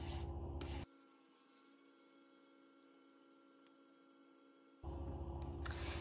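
Sterling silver Victorinox Classic scale rubbed on 800 grit abrasive, a loud scratchy sanding burst at the start and end with a quieter faint hum between.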